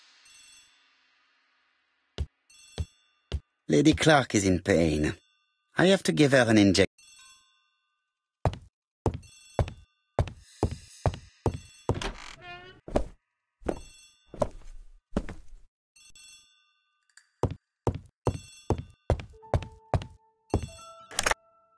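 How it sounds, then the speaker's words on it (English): A telephone rings in the hall of a house in the Agatha Christie The ABC Murders video game, with repeated evenly spaced ring bursts mixed with clicks and spoken dialogue. "The telephone in the hall is ringing."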